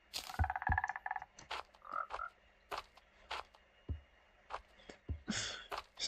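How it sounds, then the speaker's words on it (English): Frog on a road croaking close by, a series of short croaks and raspy calls with gaps between them, faint clicks and rustles in the background. "Random frog on the road."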